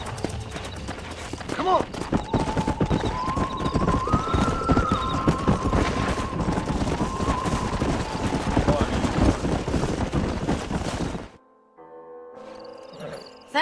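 Horse hooves clip-clop in a steady trotting rhythm in a Red Dead Redemption video game while someone speaks over them, then the hoofbeats cut off abruptly near the end.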